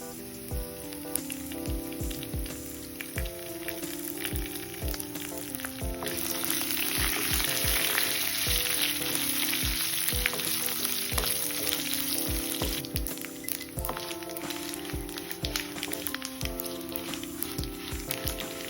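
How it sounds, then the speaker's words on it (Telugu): Dried red chillies, broken in half, fry in oil in a pan, giving a steady close sizzle that swells louder midway, with faint spoon clicks and no talking. "మిర్చి వేగిపోయాయి"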